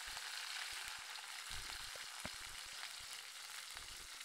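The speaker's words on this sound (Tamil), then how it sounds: "கருவேப்பிலை போட்டாச்சு." Curry leaves frying and sizzling in hot oil in a pan as part of an oyster dish, a steady crackling hiss with small pops, heard alone.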